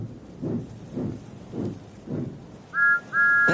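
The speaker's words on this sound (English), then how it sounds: "Then he heard a whistle." A two-tone train whistle toots twice near the end, short then longer, after low rumbling thumps in a quiet, storybook-style Thomas the Tank Engine scene.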